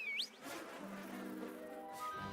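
Cartoon bees in an animated pony show give off a steady, fairly loud insect buzz that fills the clip, with a brief high squeak at the start and bright tonal music or sound effects layered over it.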